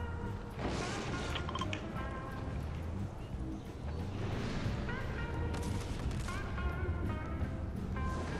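Gunfire in Fortnite pops repeatedly in the distance amid game noise, with sharp cracks scattered over a busy background and a voice speaking faintly beneath.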